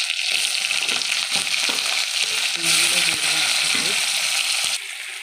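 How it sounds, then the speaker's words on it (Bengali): Cut potatoes sizzle loudly in hot oil that already holds whole cumin seeds and was used for frying hilsa fish heads, with a dense, steady hiss and scattered stirring clatter that drops a little near the end. "কেটে রাখা আলুগুলো দিয়ে দিলাম,"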